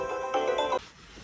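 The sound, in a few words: loud ringtone from Oukitel WP33 Pro smartphone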